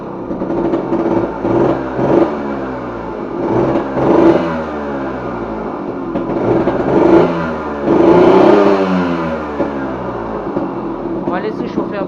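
A KTM Ponny two-stroke moped engine with a points ignition revs up and down repeatedly, its buzzing tone rising and falling in waves, heard close and loud, with a voice speaking briefly.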